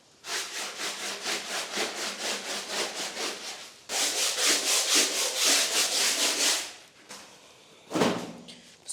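Rhythmic back-and-forth scrubbing of a rug with detergent powder and hot water, quick brush strokes repeating close and clear in two long runs, then a pause and one last burst.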